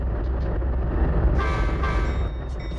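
A train rumbles steadily along the rails with a continuous low roar, and a horn blast sounds midway, followed by a second shorter toot, with no voices.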